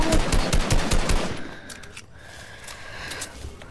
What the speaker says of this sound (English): Oh, someone trying to shoot me.